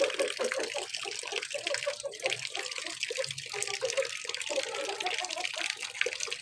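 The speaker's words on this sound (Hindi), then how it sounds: "अब पानी आ रहा है" Water gushing steadily from a tap into a container for chickens, a continuous splashing rush heard close up with no talking.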